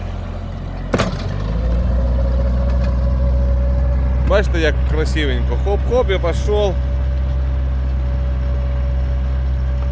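A walk-behind tractor (motoblock) engine runs in a garden, a steady low drone that starts abruptly and holds for about nine seconds while someone talks over it.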